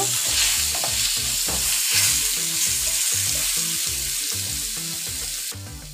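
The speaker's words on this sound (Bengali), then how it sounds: "এবার ভালো করে ভেজে নিব।" Eggplant slices seasoned with salt and turmeric frying in mustard oil in a pan, a steady, close, dense sizzle broken by repeated scraping stirs, with no voices.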